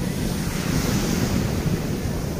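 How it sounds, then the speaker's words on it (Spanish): Strong ocean surf on Playa Icacos beach, a loud, continuous roar of breaking waves mixed with wind buffeting the microphone. "Está fuerte el oleaje, mis amigos, así que hay que tomar precauciones porque sí está fuerte"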